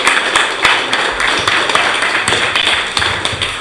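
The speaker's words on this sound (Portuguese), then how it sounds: "É uma salva de palmas para o povo que está lá na ocupação" Applause from a group of people at a gathering, loud close clapping with distinct sharp individual claps standing out over a dense steady patter.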